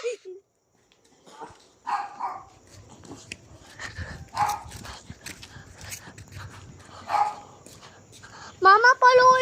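A dog barks a few times in short bursts amid a noisy background with people talking, ending with a higher whining yelp.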